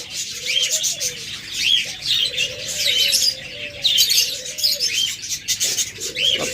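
A pair of pure white, red-eyed albino pet birds chirps in quick, repeated tweets over a soft, steady background, with a few lower warbling calls in between.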